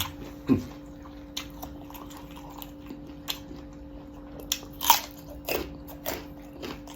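Close, crunchy chewing of som tam eaten with grilled chicken, with several crisp bites and wet chomps at irregular intervals and no speech.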